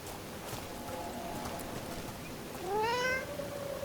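A cat in the video game Dragon Age: The Veilguard lets out one rising, drawn-out meow near the end, over a steady bed of game ambience and faint taps.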